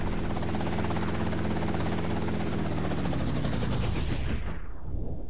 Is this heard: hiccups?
no